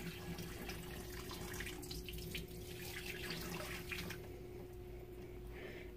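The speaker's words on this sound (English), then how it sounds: "I'm going to go ahead and take my hot bucket of water and I'm going to pour it inside of the tank and get the sand wet" Hot water pours from a bucket into a hermit crab tank to wet the play sand, a steady close splashing and trickling stream that tapers slightly toward the end, with no talk.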